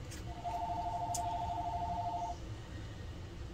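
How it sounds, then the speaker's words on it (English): A telephone rings with one steady electronic tone lasting about two seconds over a low room hum, moderately loud and close, with no talking. "sorry for the phone ringing"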